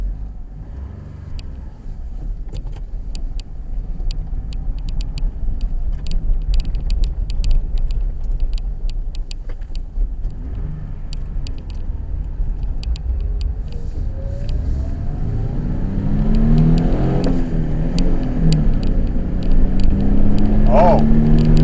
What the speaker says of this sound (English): Let's take it for a little test drive, see how the valve job and the new balanced tires feel.